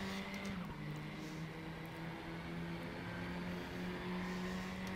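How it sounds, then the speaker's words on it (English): A KTM race car in the RaceRoom racing game laps the Lausitz circuit, its engine tone holding fairly steady and quiet, with a brief pitch shift early on. "Love the way the car drives here."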